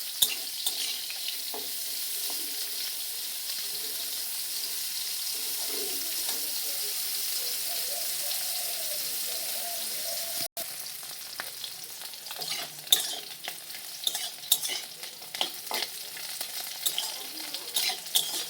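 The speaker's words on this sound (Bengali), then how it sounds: "এবার সজনে ডাঁটাটা দিয়ে দেবো। হালকা আছে, একটু নেড়ে নেবো।" Drumstick (moringa) pods sizzle and are stirred in a frying pan in a home kitchen, a continuous loud crackling hiss with scattered scraping and clinking of the spatula in the later part.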